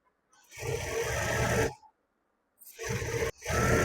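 An electric sewing machine stitches the band of a churidar pant, running loud and close in three bursts: one long whirring run, a pause, then two shorter runs.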